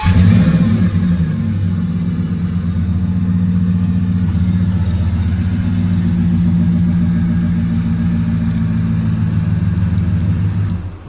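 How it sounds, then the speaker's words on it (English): A Ford truck idles after a remote start, a loud, steady low engine rumble running throughout with a slight swell near the beginning and a fade at the end. "If you press this twice, truck will start right up."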